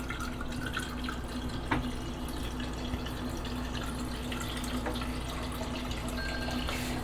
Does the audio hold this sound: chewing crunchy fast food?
no